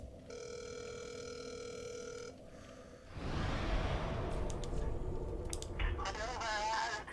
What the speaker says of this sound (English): I kinda wanna call Daru